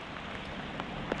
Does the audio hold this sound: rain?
yes